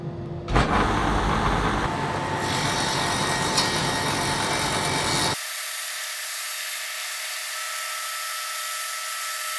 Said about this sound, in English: I can use up against the fence to cut off the bottom half of the groove